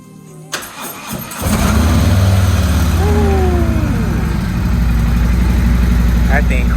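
An insurance-totaled car with 58,000 miles and minor damage cranks briefly, then catches and settles into a loud, steady idle that fills the rest of the clip.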